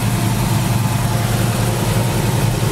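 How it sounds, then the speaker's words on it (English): A 1970 Chevy Nova's original numbers-matching 350 four-barrel V8 with headers idles steadily up close, a dense, continuous low rumble with even pulsing and no voices. "a 1970 Chevy Nova, powered by its original numbers matching 350 4-barrel V8 engine."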